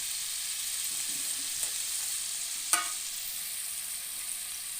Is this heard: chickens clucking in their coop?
no